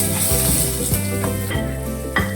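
Chopped onions, green chili and tomato sizzling in a hot pan, with a busy crackle of frying and a few soft scraping stirs, loud and close with no talk.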